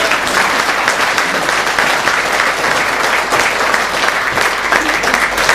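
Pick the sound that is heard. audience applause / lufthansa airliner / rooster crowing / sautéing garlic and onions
audience applause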